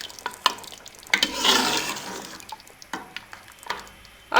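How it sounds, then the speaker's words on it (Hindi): Mutton palak with garam masala being stirred in a pan, a spoon scraping and clacking in sharp separate strokes over a soft wet sizzle that swells briefly in the middle. "अब इसको हम अच्छे से मिक्स कर लेंगे।"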